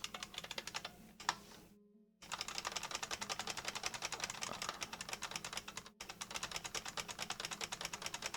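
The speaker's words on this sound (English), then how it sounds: "Pardon my very noisy keyboard. I'm using an old IBM Model M keyboard." Rapid, clattering keystrokes from an old IBM Model M mechanical keyboard, close and loud, rattle along in quick bursts with one brief pause and a sharp stop partway through.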